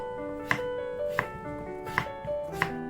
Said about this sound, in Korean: 양파를 썰고 감자를 썰어줍니다